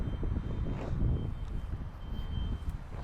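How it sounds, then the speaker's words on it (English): An alarm beeps in the background alongside a 2021 Nissan Sentra SR, faint repeated tones sitting over a low rumble of wind and traffic-like noise. "Why do you have to have an alarm going off?"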